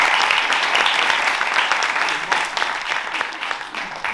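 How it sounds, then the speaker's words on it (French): An audience at an improv comedy show claps for about four seconds, full and sustained at first and thinning slightly toward the end. "Qui a été par applaudissement touché par Joseph?"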